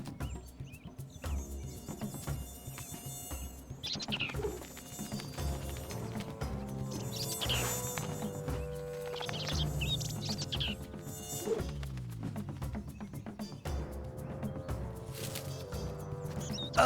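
Cartoon mosquitoes buzz in a steady insect whine over a busy animated soundtrack with music, continuing throughout at moderate level.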